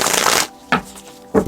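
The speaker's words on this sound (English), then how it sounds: "I can shuffle these nicely because it's the full deck" A full deck of tarot cards is riffled close up in one long rapid burst, followed by two short flicking shuffles after brief pauses.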